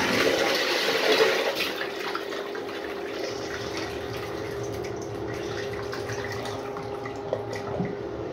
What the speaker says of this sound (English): here's another flush trying to get this